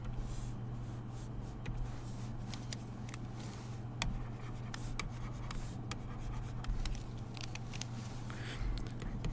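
Pen writing steadily on a surface during a lecture, a continuous faint scratching with small taps and strokes over a low steady hum, no talking.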